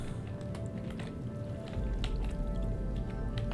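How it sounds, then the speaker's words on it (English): Hail falls in the video game Empyrion Galactic Survival, a dense pattering of scattered taps and drips over a steady low rumble that grows heavier midway, with no voices. "it's hailing"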